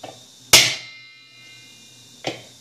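A hammer strikes a tool set against the mechanism of a Brastemp washing machine, giving two sharp metallic blows spaced well apart, each with a bright ringing tail, up close and with no talking.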